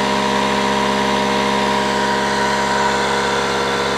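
Refrigerant charge pulled from a two-week-old American Standard HVAC unit with a grounded compressor gives a steady, loud mechanical drone with a low pulsing throb, unbroken throughout.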